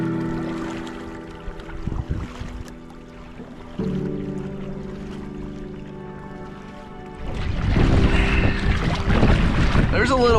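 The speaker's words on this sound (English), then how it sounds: "There's a little wind to wake us up." Wind blows at a Michigan campsite on a fall morning: low tonal hums give way to a loud, broad rushing gust buffeting the microphone in the final few seconds.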